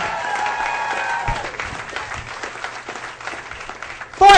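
A comedy club audience applauds for the comedians Kay, Marcus and Abby, steady clapping that is dense at first, thins out gradually, then ends with a loud burst right at the end.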